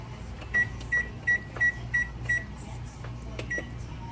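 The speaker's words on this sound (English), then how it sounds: "I'm going to set my timer." Kitchen timer being set while cooking pasta for homemade macaroni and cheese: six short, evenly spaced beeps of the same pitch, followed by fainter clicks and rustling in a quiet kitchen.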